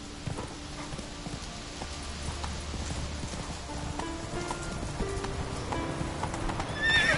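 Roach, a horse in the video game The Witcher 3 set on Skellige, whinnies while hooves clip-clop steadily beneath, close and clear against ambient game sound.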